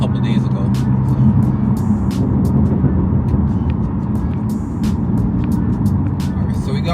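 Interior drone of a BMW M4 Competition with a Dinan exhaust cruising at part throttle on snowy roads, a loud, steady low engine and road rumble with occasional clicks, and someone talking over it.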